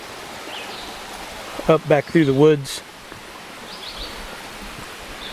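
A woodland creek flows with a steady soft rushing hiss, close by and continuous, while someone talks briefly over it midway.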